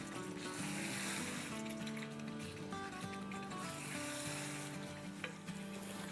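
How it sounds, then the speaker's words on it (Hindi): Mutton frying with spices in a pan, a steady close sizzle with occasional stirring scrapes running throughout under soft background music. "गोश्त को 2-3 मिनट तक मसालों के साथ भून लेंगे"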